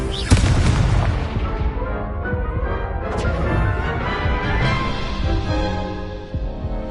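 Fiery explosion from a blasting spell in the video game Hogwarts Legacy, a loud booming crash with rumbling debris and a lingering roar, close and dense with no speech over it.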